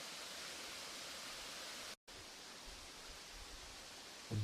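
A small waterfall cascades on the Drochon stream near Houlgate in Calvados. It sounds like a faint, even rushing hiss that holds steady, breaks off for an instant, then carries on.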